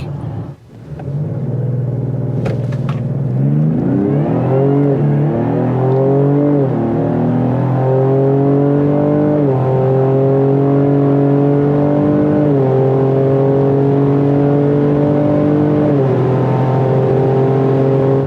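A 2025 Ford Explorer ST on a quarter-mile run roars from launch and climbs hard through several gear changes, each shift dropping the engine note before it winds up again, loud and close from inside the cabin.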